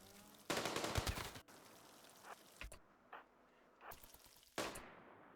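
Anti-aircraft gun turrets in the colony game Rimworld fire in several short, separate bursts of rapid rattling shots, loud against a quiet backdrop with gaps between volleys.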